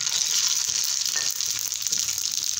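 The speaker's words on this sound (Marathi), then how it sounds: "जिरे मोहरी मस्तपैकी तळत आहे" Cumin and mustard seeds fry in hot oil in a kadhai on a gas stove, giving a loud, continuous crackling sizzle with occasional stirring scrapes, heard up close with no voices.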